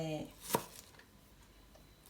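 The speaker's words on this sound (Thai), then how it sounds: "เริ่มต้นด้วยการ หั่นหอมหอมหัวใหญ่นะคะ" A knife cuts a large onion on a board for lasagne, giving a single sharp, close chop in an otherwise quiet kitchen.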